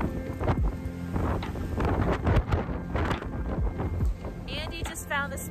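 Gusty wind buffeting the microphone outdoors near Presque Isle State Park, loud rumbling bursts that rise and fall under a person talking.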